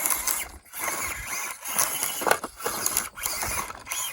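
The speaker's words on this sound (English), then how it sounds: "the drivetrain of this thing is kind of clicking, so it's starting to strip out" A small Axial SCX24 RC crawler drives with a stripping drivetrain, giving irregular mechanical clicking and whirring bursts separated by short pauses, fairly close and with no talk.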